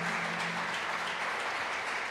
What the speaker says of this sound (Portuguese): Podemos aplaudir Jesus